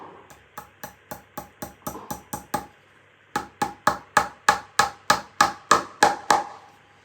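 A hammer drives nails along a rocking horse saddle: two rapid runs of sharp, evenly spaced taps, about ten in the first and fourteen in the second, growing slightly louder, with a short pause between runs.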